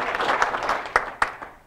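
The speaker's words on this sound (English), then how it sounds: "So, please give a round of applause for Hannes." Applause from a small audience at a tech talk in Amsterdam: scattered clapping that thins out, with a few sharp individual claps standing out near the end.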